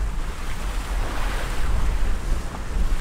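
Wind gusts and ocean waves rush past a Corsair 880 trimaran sailing downwind under spinnaker through the Florida Keys, a steady close roar of wind and water with no voices.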